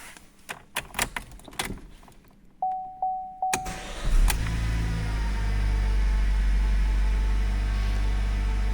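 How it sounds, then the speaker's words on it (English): A Vauxhall Astra K is started with a programmed bladed key: a few clicks and beeps come first, then the engine cranks and catches into a steady, loud idle hum that continues to the end. "now starts and the car runs."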